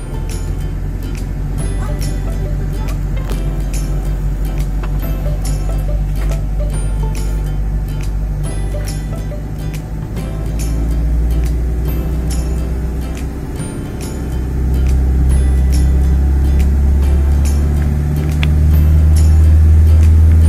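A motor vehicle engine running loud and close in a steady low drone that swells twice as the throttle is opened, the revs rising and holding without any talking.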